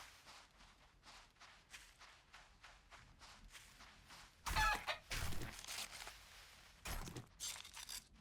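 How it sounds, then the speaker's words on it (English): A chicken in the 7 Days to Die video game clucks and scurries, with a steady patter of quick footsteps. Louder, harsher bursts break in toward the middle and near the end. "This chicken runs fast."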